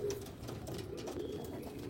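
Abluk carrier pigeons kept at a home loft coo softly, a few low, throaty rolling calls repeating over a couple of seconds at a faint level.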